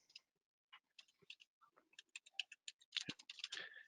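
Quick keystrokes on a computer keyboard as a Google search is typed, a close, clear run of separate clicks that speeds into a dense burst near the end, with no voice over it.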